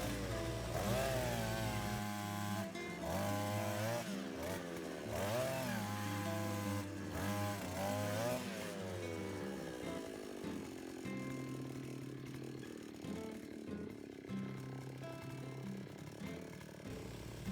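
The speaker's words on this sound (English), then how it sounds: "This earth auger that I purchased in Bulacan and had shipped to Daet" A small two-stroke earth auger engine drones loudly, revving up and down in the first half before settling into a steady, rougher idle.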